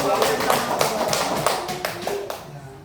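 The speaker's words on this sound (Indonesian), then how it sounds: "Tepuk tangan untuk Anda, Arina." A classroom of students claps in a quick, fairly regular patter of sharp hand claps, close and loud, fading out near the end, with a voice speaking faintly underneath.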